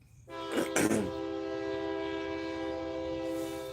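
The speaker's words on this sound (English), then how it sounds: "there was a train passing by" Freight or passenger train horn sounding close by, a long sustained multi-tone blast holding steady over the rumble of the passing train, with a brief burst of rail clatter near the start.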